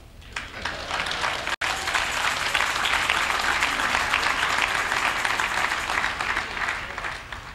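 Dense, loud audience applause at a live broadcast event in Lagos rolls on continuously for over seven seconds, with a brief dropout early on and no talk over it.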